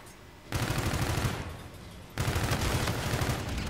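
Rifle fire in Call of Duty: Infinite Warfare, two long sustained automatic bursts with rapid close rattling shots, separated by a short lull.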